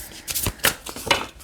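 Tarot cards are being shuffled by hand, a few quick papery riffles and slaps in short bursts, close and fairly quiet with no talking.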